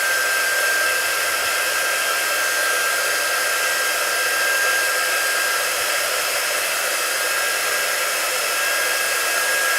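A hair dryer blows steadily and loudly for the whole stretch, drying a chalk transfer, a constant close whir with no talking.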